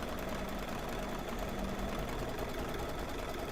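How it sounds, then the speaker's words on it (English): An embroidery machine stitching an in-the-hoop firecracker design runs with a steady, continuous mechanical whir, fairly quiet and unbroken for the whole stretch, with no talking over it. "Yeah, it's still stitching."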